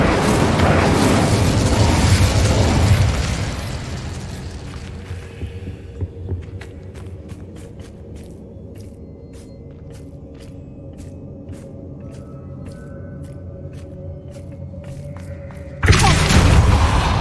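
An Incendio fire spell explodes in the video game Hogwarts Legacy, opening with a loud fiery burst that fades into a low hum with scattered faint ticks, then a second sharp blast at the end.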